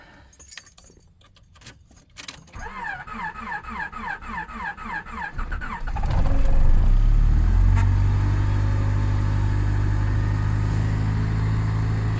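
An old car engine cranks slowly over several seconds of rhythmic starter whirring, with a couple of clinks beforehand, then catches and settles into a loud, steady idle in -30°C cold, after a snapped timing belt and four bent valves were straightened.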